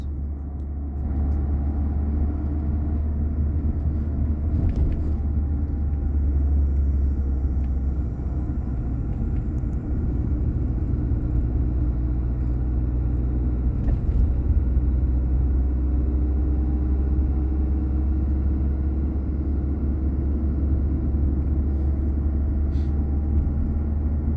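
A manual car engine hums steadily at low revs while driving a driving-exam course, a constant rumble with faint variations as the throttle eases.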